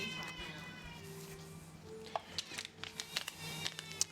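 Pet cats at feeding time meowing in a home kitchen, several short bright calls close by, scattered and overlapping over a low steady background hum.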